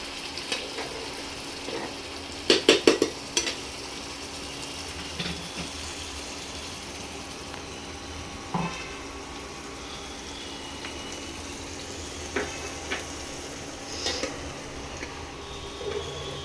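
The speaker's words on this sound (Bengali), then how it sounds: "সর্ষে পোস্তটা তেলের মধ্যে দিয়ে একটু কষিয়ে নেব।" Mustard and poppy seed paste fries in oil with a faint, steady sizzle, broken by occasional clinks and scrapes of stirring nearby.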